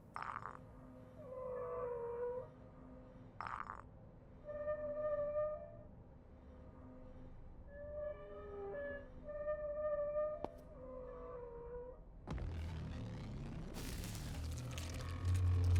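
Eerie whale-laser effect in a horror video game: long, wavering tonal calls like whale song drift over a low rumble, broken by sharp clicks, before a harsh burst of noise closes it out.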